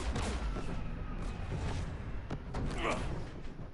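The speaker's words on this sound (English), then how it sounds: "We're taking fire." Gunfire and explosions from the Mass Effect 3 video game form a dense, continuous barrage of booms and crackling shots, with whooshes running throughout.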